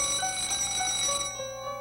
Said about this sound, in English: Saved by the bell.